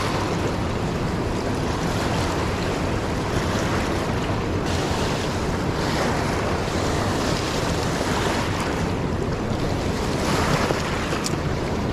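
A high, raging river rushes past in a steady, loud roar of churning water, continuous and close with no break and no voices.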